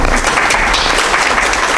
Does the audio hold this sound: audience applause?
yes